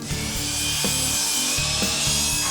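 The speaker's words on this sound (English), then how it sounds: "And you're about to cut your trim, and I'm gonna watch." A saw cuts through wood trim during a home renovation, giving a steady rasping drone with regular stroke accents roughly every three-quarters of a second, loud and close with no talking.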